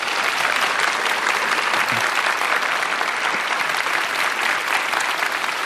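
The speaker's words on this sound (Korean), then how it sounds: "큰 박수 다시 한번 부탁드립니다" Loud, dense audience applause at a lecture event, a continuous roar of many hands clapping together that holds steady without pause.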